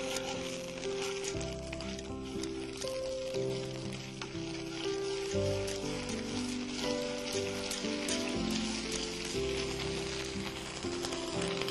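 A thick gravy with garlic-ginger paste is browned in a pan, giving a steady, dense sizzle and crackle that carries on without break from start to finish, with no talking.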